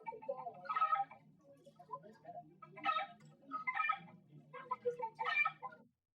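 A vocoded sound from a music project plays in several choppy, voice-like bursts with a warbling, robotic tone, four louder swells spread over about six seconds against a quiet background.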